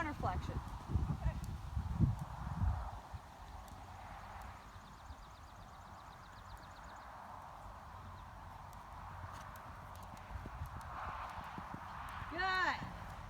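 Hoofbeats of a horse cantering during a riding lesson, a soft rhythmic drumming at moderate distance, with an instructor talking over it.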